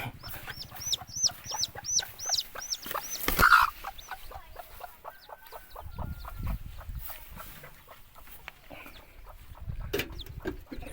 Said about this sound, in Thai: ไก่แจ้ครับ ไก่แจ้